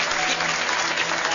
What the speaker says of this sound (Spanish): Un aplauso para don Yoki, muy bien.